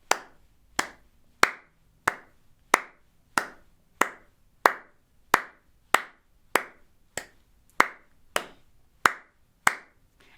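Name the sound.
hand clapping on the beats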